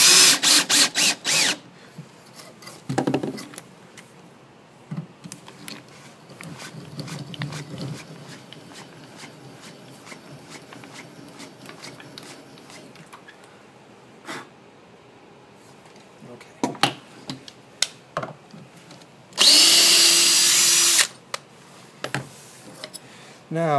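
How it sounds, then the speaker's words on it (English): A power drill drives a screw into a cabinet hinge, with two short loud bursts of drilling and a scatter of clicks and ratcheting mechanism sounds between them, close up, while a person talks. "Now what I'll do is just pop this screw into one of the holes that have been done already."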